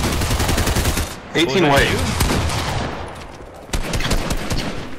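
Gunfire in a shooter video game cracks out in quick bursts, including rapid automatic fire, mixed with game effects. Players talk over the shooting.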